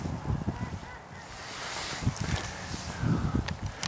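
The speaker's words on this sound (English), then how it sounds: "Just look at those ducks." Ducks in a pond in the video game Might and Magic VI give repeated honking quacks in scattered bursts, moderately loud over a soft rustling background.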